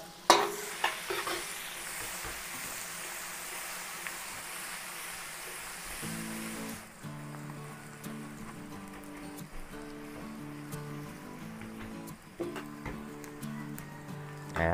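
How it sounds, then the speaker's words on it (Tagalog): Chopped onion sizzles steadily in a hot pan with oil while a spoon scrapes and stirs it, the frying hiss continuous and close with occasional louder scrapes of the utensil. "Maglagay na po tayo ng sibuyas."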